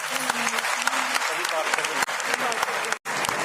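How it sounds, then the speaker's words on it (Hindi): Loud, steady applause from a women's conference audience in Panchkula, a dense mass of clapping with cheering voices mixed in, briefly cut off near the end before resuming. "आप सबके लिए जोरदार तालियां।"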